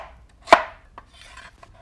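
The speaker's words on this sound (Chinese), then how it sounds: "切成片" A knife cuts through a peeled sweet potato, giving one crisp close chop followed by a faint softer knock and a light rubbing scrape.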